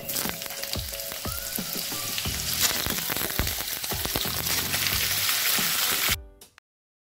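Washed elephant yam pieces frying in hot oil, a loud dense crackling sizzle with occasional stirring clacks that runs steadily, then cuts off abruptly near the end.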